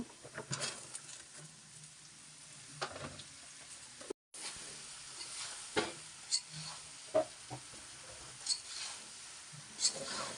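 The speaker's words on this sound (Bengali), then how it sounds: "এভাবে ভাজিটা করলে ভালো লাগে একটু হলুদ দিয়ে দিলাম ধুন্দর" Sponge gourd fries with turmeric in a pan: a quiet, low sizzle broken by scattered clicks and scrapes of stirring, with a very short gap partway through.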